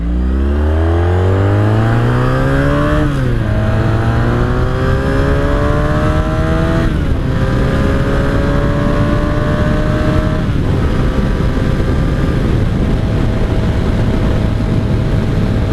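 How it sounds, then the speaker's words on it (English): A loud 1983 Honda Sabre VF750C V4 motorcycle engine revs hard, pitch sweeping up and dropping in repeated surges, continuous and close with no talking. "Did you high rev a V4 motorcycle?"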